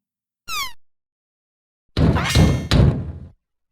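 A short chirp, then a pause before a loud burst of heavy knocking or banging on a door, two thumping clusters close together.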